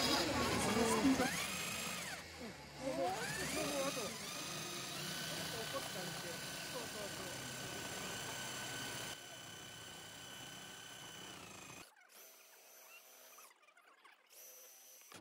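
A compact electric saw with a trigger cuts wood during a demonstration at a DIY home center trade show, giving a steady motorized whine with a busy crowd and people talking over it. It cuts off near the end, leaving quieter hall noise.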